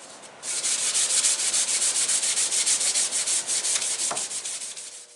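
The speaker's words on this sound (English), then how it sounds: "So we've profiled the paddle stock with a belt sander." A steady, loud belt sander profiling wooden paddle stock for a turkey call, a continuous abrasive rasp with a slight pulsing texture, running without pause after a brief quiet start.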